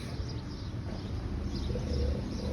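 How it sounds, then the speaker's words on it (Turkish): Birds chirping outdoors on a hot spring or summer morning in İzmir, light scattered calls over steady low outdoor background noise, no talking. "Kuşlar ötüyor, baharlar, yazlar gelmiş arkadaşlar."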